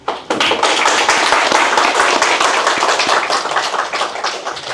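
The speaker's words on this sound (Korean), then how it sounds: "격려의 박수를 보내고 싶습니다" A room full of people at a political debate forum applauds, a dense burst of clapping that starts suddenly and stays strong throughout.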